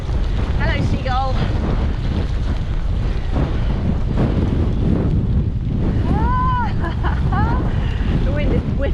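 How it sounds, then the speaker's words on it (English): Strong sea wind buffets the microphone in a constant loud roar at the coast during a rainy cycle ride, with surf beneath and a voice calling out briefly over it. "The wind is whipping off the sea,"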